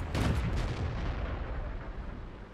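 A tank gun fires in World of Tanks, one loud booming shot with a deep rumbling echo that fades over a couple of seconds, with no voices.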